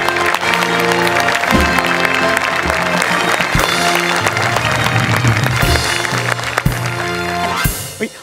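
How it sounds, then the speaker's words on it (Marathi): A studio audience applauds to welcome a guest on a Marathi stage comedy show, with steady clapping running under loud music for about eight seconds. "जोरदार टाळी त्यांचं स्वागत करूया."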